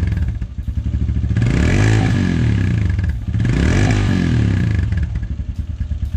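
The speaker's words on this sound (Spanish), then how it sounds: "te recomiendo darle un acelerón leve, no tan fuerte, pero algo leve, para ver si no saca humo." A close used motorcycle engine revs up gently twice, each light throttle blip rising and falling over a steady idling rumble, tested for exhaust smoke.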